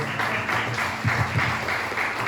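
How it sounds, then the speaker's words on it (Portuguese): A church congregation applauds during worship, a steady wash of many hands clapping at moderate loudness, with some low vocal sounds mixed in beneath. "Você pode aplaudir o Senhor."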